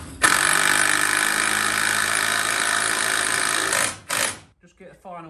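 A hammer drill drives a ground anchor into the ground with a loud, continuous rattling whine for about four seconds. It stops abruptly and then gives a short burst, followed by quiet rustling.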